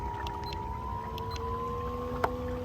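A BIXPY J2 electric kayak motor drives a Hobie Lynx, giving a steady, thin electric whine that climbs slowly in pitch as it speeds up, over faint water noise, with one brief click.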